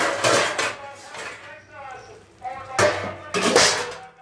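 Metal clatter of a lid being placed over a pan while cooking capsicum palya, a few sharp clanks and scrapes close by, mixed with a voice speaking.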